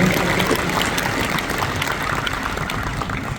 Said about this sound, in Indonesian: Kita tepuk tangan bersama beliau.